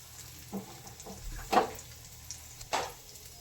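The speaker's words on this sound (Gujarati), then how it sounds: "એમાં આપણે વઘાડી એડ કરી દઈશું મીઠો લીમડો અને થોડીક" Curry leaves and turmeric sizzling in hot tempering oil for Gujarati chevdo, a faint crackle with a few sharp spattering pops standing out.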